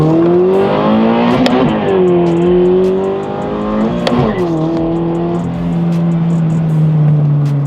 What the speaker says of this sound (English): Intake sound is a lot louder.